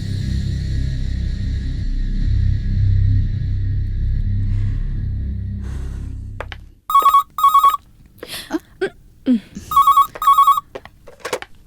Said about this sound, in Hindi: मॉम, डैड का फोन है